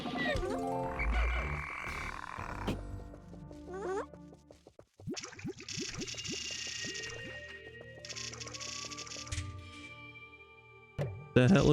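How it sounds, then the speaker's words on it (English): Frog enemies croak in the Pikmin video game, a run of loud, repeated croaks over layered game music and effects, with a brief burst at the very end. "I hate these frogs."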